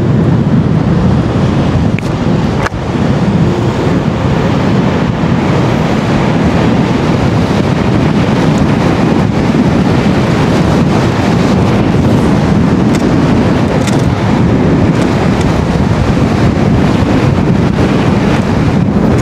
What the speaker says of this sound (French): Je prends des rafales de vent comme ça.